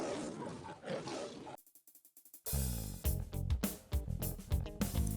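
A big-cat style roar sound effect plays within a college radio station jingle, a loud growling burst amid music and processed station branding, with a brief near-silent gap of rhythmic clicks between.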